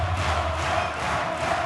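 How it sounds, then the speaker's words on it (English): A darts arena crowd chants the player Hopp's name, a dense continuous roar of massed voices with a steady rhythmic swell, loud and filling the hall with no commentary over it. "the chant in the crowd"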